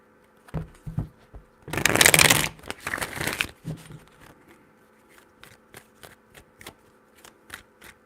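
A deck of tarot cards is riffled and shuffled close up: a few soft taps, then a loud rustling burst, followed by a run of sharp, evenly spaced card snaps fading into quieter clicks.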